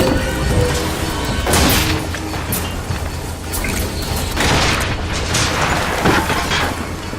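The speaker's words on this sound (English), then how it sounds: "Rockets!" Rocket explosions in BioShock Infinite boom and crash repeatedly over a constant roar of battle noise, several heavy impacts landing close and loud.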